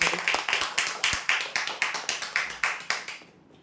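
Clapping from an audience at a prize-draw event, a run of about fifteen distinct, evenly spaced claps that fades out at the end, with no voices over it.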